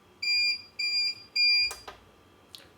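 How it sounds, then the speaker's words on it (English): A heat press for pressing comic books sounds its temperature alarm, three loud electronic beeps in an even rhythm, followed by a couple of short soft knocks and clicks nearby. "I'm going to sit it down just for a second because the press alarm is about to go off"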